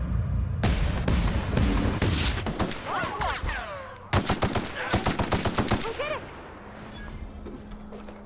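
Assault rifle fire in the video game The Outer Worlds: loud, close automatic bursts with a dense run of rapid evenly spaced shots in the middle, mixed with game combat noise and fading into quieter ambience at the end.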